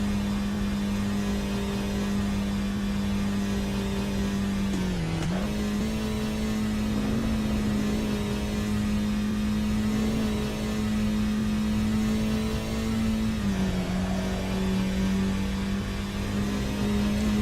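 A Geo Metro engine drones in the Assetto Corsa racing game. The steady, loud tone dips briefly twice, around the gear changes, with no one speaking.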